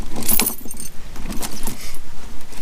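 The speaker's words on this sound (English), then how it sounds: "just slide them up over the top of the chain" Metal snow chains on a 4WD tyre, jangling and clinking as they are handled and slid over the tread, loud and close in rapid bursts.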